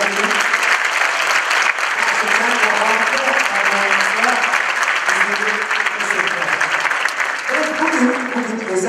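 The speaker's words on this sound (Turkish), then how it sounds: "Kıt Safranbolu halk oyunları erkek ekibimize bir büyük alkış daha rica edelim" Loud, sustained applause from a large audience in a cultural centre hall for the Safranbolu men's folk dance team at a memorial evening, continuous dense clapping with faint voices and a tonal hum underneath.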